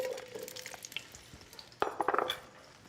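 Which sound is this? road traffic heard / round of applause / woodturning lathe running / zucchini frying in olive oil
zucchini frying in olive oil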